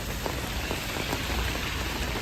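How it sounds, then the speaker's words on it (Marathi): Steady, dense rain pours down continuously in Lonavala, a thick hiss of drops hitting surfaces with no pauses, close and fairly loud throughout. "बघा डायरेक्ट पाऊस सुरू झालाय."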